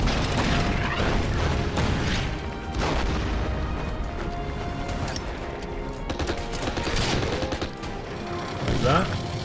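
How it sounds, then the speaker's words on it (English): Artillery fire in the Order of Battle Winter War strategy game: dense, continuous booms and rattling gunfire blend with mechanical clatter, loud and close throughout, with a voice faintly under the barrage. "Give it some artillery fire first."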